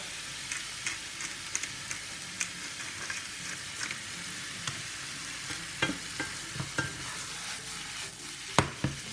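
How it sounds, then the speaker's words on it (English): Girolle (chanterelle) mushrooms sauté in a hot pan, a steady sizzle broken by sharp scrapes and taps of a utensil stirring them, loudest toward the end. "So saute them for a little while."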